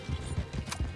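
A horse gallops in Red Dead Redemption 2 with quick, regular hoofbeats thudding under a continuous background of game noise and movement.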